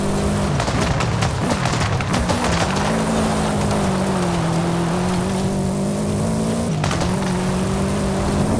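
A Subaru Impreza WRX STI engine roars steadily at close range, holding a sustained droning pitch with brief surges and dips in revs.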